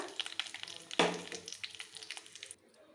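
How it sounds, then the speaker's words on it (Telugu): Peanuts hit hot oil in a pan alongside dried red chillies, giving a crackling sizzle with one loud splashy burst as they go in, then scattered pops fading to quiet at the end. "ఇందులో ఇప్పుడు పల్లీలు వేసి వేయించుకుందాము బాగా"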